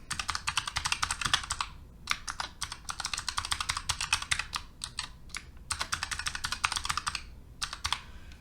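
Rapid typing on a computer keyboard, close and clear, with dense bursts of key clicks broken by short pauses and no voices.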